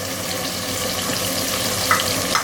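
Turmeric and coriander powder frying in a pot as they are stirred, a steady close sizzle and hiss with a couple of brief scraping clinks near the end.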